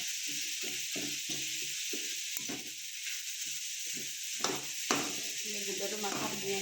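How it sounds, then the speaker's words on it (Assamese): A fried fish head is broken up in a hot pan for a radish fry, with steady oily sizzling and soft scraping and prodding sounds as a voice talks over it. "এতিয়া তাতে ভাজি ৰখা মাছৰ মাথাটো দি দিম, দি এনেকৈ ভাঙি দিম।"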